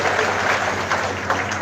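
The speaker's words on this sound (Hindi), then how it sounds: "ताली बजाओ भाई" A crowd applauds steadily at a BSP political rally, a dense, continuous wash of clapping that holds at a loud level throughout, with no clear pauses.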